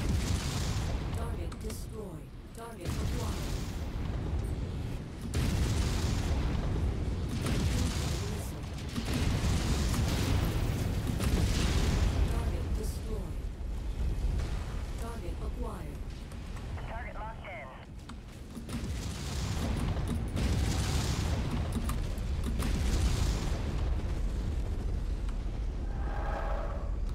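Heavy explosions and booming weapon fire from MechWarrior 5 rumble continuously in dense, loud waves, with radio-style voice callouts heard over the battle.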